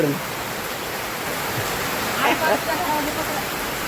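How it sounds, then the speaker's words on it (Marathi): Heavy rain falls steadily outdoors, making a dense, continuous rushing hiss with a slight swell near the middle. A faint voice may be present. "अरे पाऊस चालू झाला लय पाऊस पडला"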